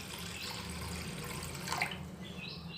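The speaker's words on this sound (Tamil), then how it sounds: "1/2 லிட்டர் தண்ணி விட்டுக்கலாம்." Water poured from a vessel into a cooking pot on a stove while making idiyappam, a steady close splashing stream that briefly swells before tapering off.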